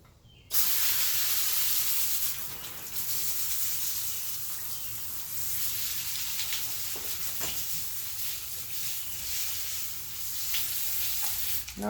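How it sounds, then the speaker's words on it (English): A water spray rinses a tire and rim with a loud, continuous hissing rush that starts abruptly. It stays close and steady, with slight splashing variations, and there is no talk. "I'm just going to go ahead and rinse that out."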